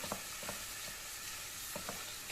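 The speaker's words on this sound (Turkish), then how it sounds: "Bir yemek kaşığı domates salçamızı da şöyle kavuralım." Tomato paste frying and being stirred in a pan for Mengen soup, with a steady faint sizzle and a few soft scraping strokes of stirring.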